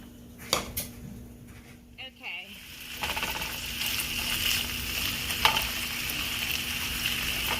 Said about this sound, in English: we are frying our bacon now